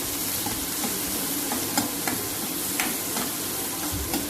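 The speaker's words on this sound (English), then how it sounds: "So we add very finely chopped onions and we let it saute" Finely chopped onions sauté in a pan with a steady close sizzle and scattered clicks of stirring throughout, no voices present.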